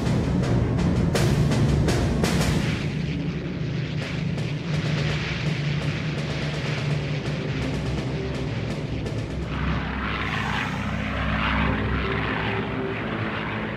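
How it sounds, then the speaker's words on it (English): Spitfire and Hurricane fighter planes take off and fly with a loud, continuous propeller engine roar. Sharp crackling bursts run through the first few seconds, and the roar then stays heavy and sustained throughout. "A further 10 Hurricane and 9 Spitfire squadrons waiting at dispersal are ordered into the air."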